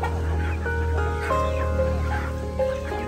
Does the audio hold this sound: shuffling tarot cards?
no